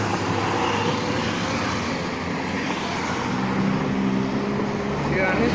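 Street traffic rolls past on a Dubai street near Union metro station, a steady, fairly loud wash of passing cars and heavy vehicles with a low rumble throughout.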